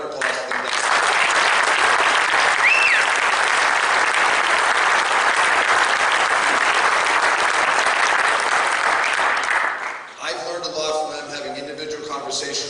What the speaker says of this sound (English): So another round of applause for them.